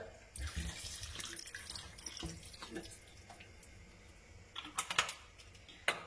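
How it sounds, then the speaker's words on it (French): Hot water poured into a cooking pot holding pork shoulder, carrots and chestnuts, a close splashing, gurgling pour with uneven bursts and a few sharper splashes near the end. "J'ai ajouté 2 verres d'eau chaude hein, pour que tout soit bien recouvert."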